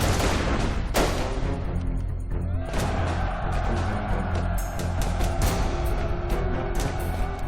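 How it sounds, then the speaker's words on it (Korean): Musket gunshots ring out in a reenactment of the 1775 battle at Lexington outside Boston, sharp bangs and crackling volleys layered over a dense, busy backdrop with no speech. "미국 보스턴 인근 렉싱턴시 외곽에서 총성이 울립니다."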